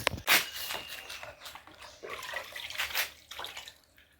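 Homemade liquid fertilizer water poured onto garden plants, a splashing, gurgling pour in several bursts close by, with no talking.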